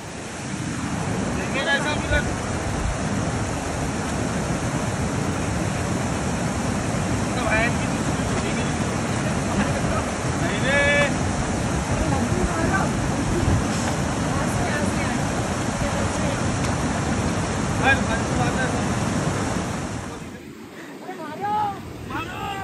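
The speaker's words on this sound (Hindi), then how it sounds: "यहाँ पर देखिए कैसा पानी बह रहा है" Water rushing and flowing below the dam at Venna Lake, a steady broad wash close to the microphone with wind buffeting, ending in a brief quieter rustle.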